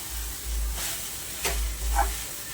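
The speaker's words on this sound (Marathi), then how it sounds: "सगळा शाबू पण त्याच्यामध्ये घालून घेणार आहोत आणि हे छान आपल्याला मिक्स करायचं" Soaked sago being mixed into sabudana khichdi in a pan, a soft sizzle with a few brief scraping strokes of a spoon over a low hum, close and quiet with no talk.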